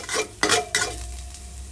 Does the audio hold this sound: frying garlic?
yes